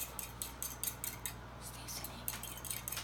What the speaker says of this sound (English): take your fork and beat the eggs until it turns a light